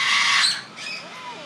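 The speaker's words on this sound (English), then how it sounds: "That's an African crane." An African crane gives a brief harsh squawk, loud and close, followed by a softer second call, all within about a second and a half.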